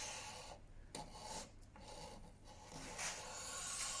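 A Stanley knife blade scrapes across wood in close, quiet strokes, each a short dry rasp with brief pauses between them.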